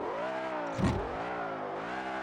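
A BMW M5 E60 engine in the Assetto Corsa racing game revs steadily in second gear, a continuous rising and falling harmonic drone with a brief louder surge near the start, heard alone without voices.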